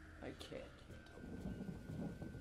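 Low rolling thunder rumbles with rain approaching in the jungle survival game Green Hell, a steady wash of rainfall building under faint background noise and a thin sustained tone.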